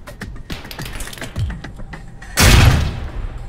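A truck's gas tank blows up in the video game Alpha Protocol, a single loud broadband blast that bursts in near the end and lingers as a rumbling roar after a stretch of tapping, thudding game sounds.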